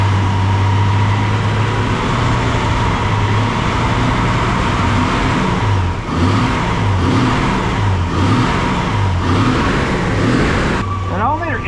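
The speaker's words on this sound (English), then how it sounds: "So you're gonna want to rev her up a little bit" A 1979 Ford F-250 with the 300 inline-six runs steadily up close, its engine revved in repeated rising and falling swells with a faint whine near the end, and no voices over it.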